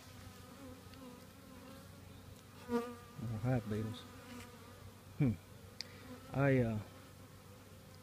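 Honeybees buzzing around an open hive during an inspection, individual bees droning close past the microphone in short passes over a faint background hum, with a brief spoken word.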